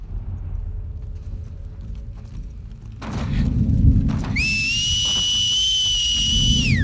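A companion whistles in The Last of Us Part II, a loud, steady sustained whistle tone entering partway through after a thud, over low ambient game rumble.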